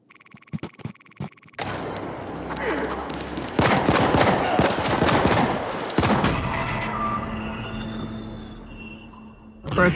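Rapid video-game gunfire from The Ascent, a few sharp shots first, then dense sustained bursts of automatic fire that stay loud and close before tapering off near the end.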